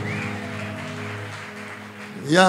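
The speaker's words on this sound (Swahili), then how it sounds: "Piga tena makofi kwa Bwana wa mabwana." Clapping from a church congregation during a worship service, a dense steady patter under loud voices and music, swelling again near the end.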